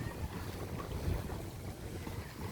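Boats near the shore at Alona Beach, Bohol, with steady wind noise and a low rumble of water and engines filling the whole stretch, fairly faint and even with no talking.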